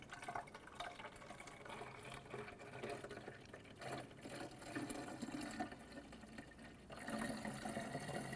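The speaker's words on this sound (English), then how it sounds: "Go ahead and fill the reservoir or expansion tank to the fill line." Coolant poured into the radiator expansion tank of a 2006-2013 Chevrolet Impala, a steady close trickle and gurgle of liquid running for several seconds, with no talk.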